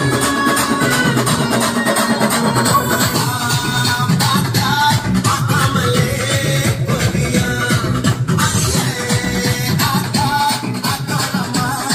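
A GOVO GoLoud 900 party speaker plays loud, dense music with steady heavy bass throughout, continuous and close with no pauses.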